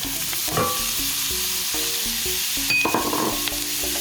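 Onions and peppers hit melted butter in a cast iron skillet, a loud close sizzle with bursts of crackling and spatula scraping, steady frying throughout and no speech.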